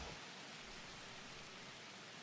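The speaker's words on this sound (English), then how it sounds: "Oh, look at the rain." Steady rain pours in The Universim god-game, a soft, even hiss of water that holds at the same faint level from start to finish with no other sounds.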